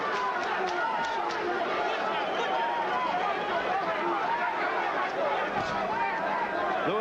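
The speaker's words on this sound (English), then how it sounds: "And the chants of Lewis from the crowd." A boxing arena crowd at a 1993 WBC heavyweight title fight chants a fighter's name, a dense, continuous roar of many voices filling the space, with an announcer's voice over the top.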